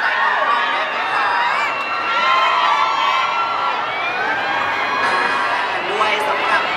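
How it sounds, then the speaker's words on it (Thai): A crowd of fans at a beauty store branch opening event screams and cheers loudly and continuously, with high-pitched shrieks layered over a dense roar throughout. "ขอเสียงกรี๊ดบอกว่าดังๆกับให้กำลังใจน้องๆได้ไหมคะ"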